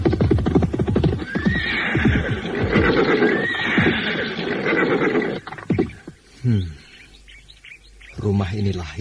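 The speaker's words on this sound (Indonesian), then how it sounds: "Kameswara segera turun dari kuda tunggangannya." A ridden horse whinnies loudly twice in the opening seconds, long quavering neighs close by, followed by snorts and shifting sounds.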